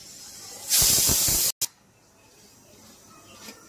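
Hot oil hits noodles with a loud, bright sizzling hiss for under a second, cut off abruptly, followed by a short burst and then a quieter fading crackle.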